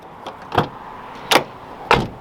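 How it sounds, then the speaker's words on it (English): Door handles on a new Nissan GT-R actuate with three short mechanical clicks and whirs at close range, spaced irregularly over a quiet background. "the number three thing is the door handles. I had to make this a point because I kind of have an obsession with these door handles. I love the sound."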